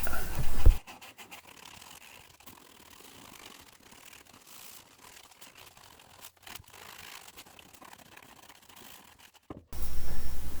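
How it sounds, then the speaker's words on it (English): Sandpaper rubbed along the edges of a DIY Halloween jack-o'-lantern box makes quick, close, repeated scratchy strokes, framed by short louder noise at the start and end. "Here I'll take a piece of sandpaper and smooth out the edges."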